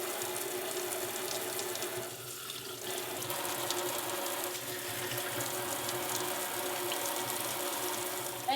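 Water streams steadily from a kitchen tap while juicer parts are rinsed, a continuous close splashing flow with slight shifts as the parts move under it, and no talk.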